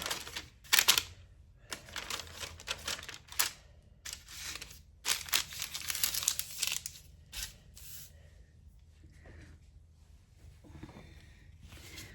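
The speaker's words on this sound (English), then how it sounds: "we're going to lay out a piece of parchment paper." Parchment paper crinkles and rustles close by in bursts of crackling, with pauses between handling, growing quieter toward the end.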